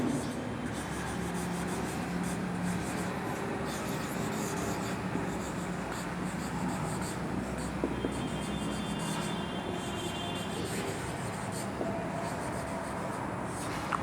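Marker or chalk writes on a board during a school computer lesson, a faint continuous scratching and rubbing that holds steady for the whole stretch in a quiet room.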